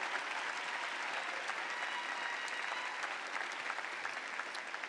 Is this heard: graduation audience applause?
yes